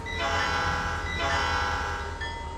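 A train horn in the Trainz 2022 simulator game, sounding as a loud sustained chord that blows in two long overlapping blasts over a low rolling rail rumble, with no talking.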